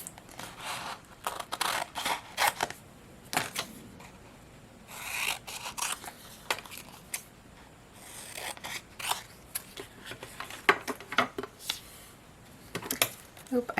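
Scissors snip through paper and tape at a craft table, short crisp cuts in irregular bursts with rustling between, close and moderately loud.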